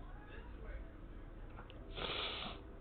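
A sharp nasal snort at the end of a short stretch of quiet room tone, up close to the microphone and louder than the faint earlier sniffs.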